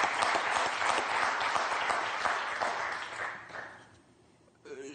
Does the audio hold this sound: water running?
no